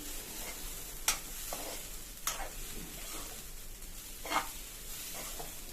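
Fresh grated coconut frying in a pan and stirred with a spoon: a soft, steady sizzle with a few sharp scrapes against the pan at intervals, quiet and close, no talking.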